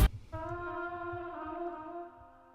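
A sustained tonal note with doubled, closely spaced quick ping-pong slapback echoes underneath, slightly off to the sides, giving a short slapback repeat feel with a soft sharp attack at the start.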